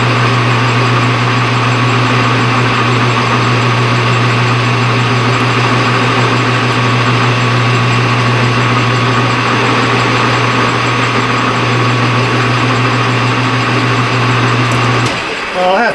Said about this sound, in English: Right, I'm going to center drill it.